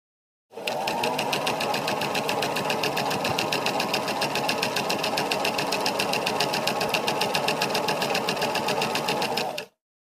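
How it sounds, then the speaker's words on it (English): A Brother sewing machine runs steadily while winding thread onto a bobbin, giving a continuous fast whirring hum that starts abruptly, holds at an even loudness for about nine seconds, then stops cleanly. "Press the foot controller and keep pressing until you get the desired quantity of a thread filled in the bobbin."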